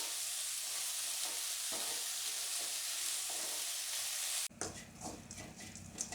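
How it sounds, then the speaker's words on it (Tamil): Bitter gourd stir-fried in a pan over medium heat, giving a steady close sizzle with soft stirring scrapes that turns brighter and louder near the end, with no voices. "நம்ம 1/2 மணி நேரம் நல்லா வதக்கிட்டே இருக்கணும்."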